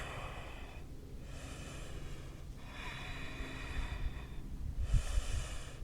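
Deep, audible breaths are taken in slow cycles during yoga poses, with long hissing inhales and exhales separated by short pauses, close and fairly quiet.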